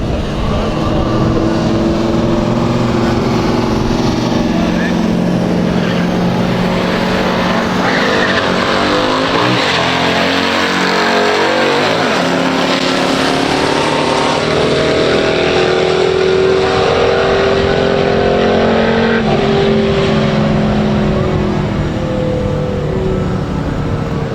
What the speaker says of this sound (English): it's pretty cool seeing a full-size Chevrolet bang some gears